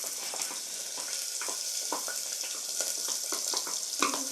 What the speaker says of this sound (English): So we are going to add our